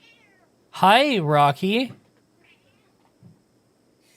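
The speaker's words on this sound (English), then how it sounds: "You probably heard that meow." A pet cat named Rocky gives two loud, close meows in quick succession, the second shorter, beside a person who speaks briefly.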